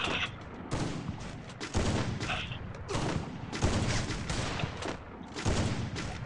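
Sustained bursts of automatic gunfire from the mobile shooter Free Fire on a Craftland map, dense and loud, with rapid shots running in back-to-back volleys and only brief gaps between them.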